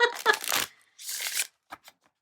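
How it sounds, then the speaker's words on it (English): Tarot cards are shuffled by hand in short riffled bursts, close and crisp. Two bursts of rustling are followed by a couple of quick soft taps and then near silence. "Nope, still got to shuffle."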